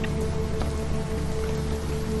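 Steady rain falls outdoors as a dense, continuous patter with scattered droplet hits. It is close and moderately loud, with no voices.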